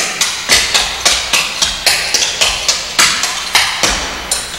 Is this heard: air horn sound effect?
no